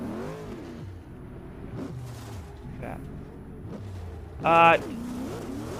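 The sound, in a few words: Corvette race car engine downshifting in video game Forza Motorsport 6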